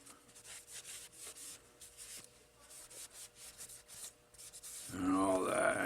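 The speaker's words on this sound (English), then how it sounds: "And wipe off the hammer." Cloth rubbing over the hammer of a CZ P01 pistol during cleaning, a soft, close, steady scrubbing swish of repeated back-and-forth strokes, ending in a louder burst of brushing noise.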